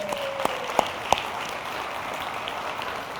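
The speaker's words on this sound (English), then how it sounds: "Let's give her a round of applause." An audience at a township address claps steadily, a dense spread of moderate applause with a few sharper individual claps standing out near the start.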